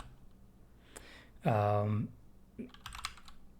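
Someone types a prompt into JavaScript code on a computer keyboard, producing quick clusters of light clicks near the end. A brief spoken phrase comes in the middle, and faint taps are heard before it.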